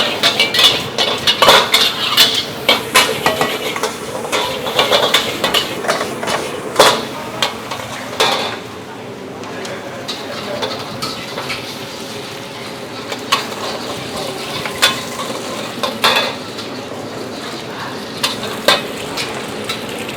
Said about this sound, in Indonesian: Sekarang gue lanjut bikin nasi goreng Hainam untuk orderan dine-in ya